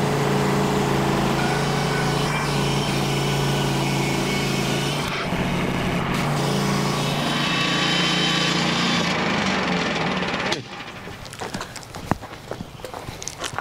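A sawmill engine runs steadily with a loud, continuous mechanical drone and vibration for about ten seconds, then drops to a quieter rumble with a few faint knocks near the end.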